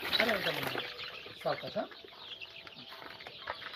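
Young poultry birds in a brooding pen cluck and squawk in a startled flurry, loud and close, with overlapping calls that ease into scattered clucks.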